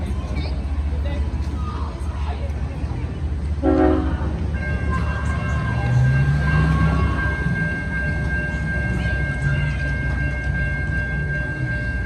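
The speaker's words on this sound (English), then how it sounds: "Northbound train coming right now." A northbound 4,400-foot freight train running along a street in LaGrange rumbles steadily past close by, a loud continuous roar of wheels and cars, with a horn blast sounding partway through.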